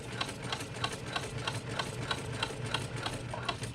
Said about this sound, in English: now I'm going to go ahead and go around and do a second row of stitching